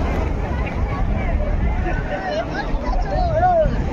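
A speedboat sets off at sea off Digha beach, its motor droning steadily beneath wind buffeting the microphone and chatter from the passengers throughout.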